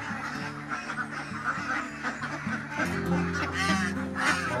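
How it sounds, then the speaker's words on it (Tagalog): Ducks at a farm during their morning feeding on rice bran, quacking as a busy, overlapping flock near the listener, the calls steady and loud throughout. "Tayo ay magpapakain ngayon ng itik, papatuka."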